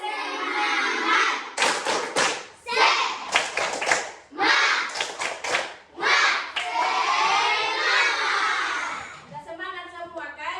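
Third-grade schoolchildren in a classroom perform the Tepuk Semangat clap, bursts of rhythmic group clapping in quick patterns mixed with loud chanting voices, ending with sustained shouting.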